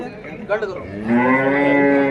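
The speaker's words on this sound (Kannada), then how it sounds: "ಫ್ರೆಂಡ್ಸ್ ಇಲ್ಲಿ ಒಂದು ಎಮ್ಮೆ ಇದೆ ನೋಡ್ರಿ" A female water buffalo at a livestock market in Kalghatgi, Karnataka, gives a loud, drawn-out moo up close, a deep harmonic bellow swelling midway and holding steady to the end, with no talking.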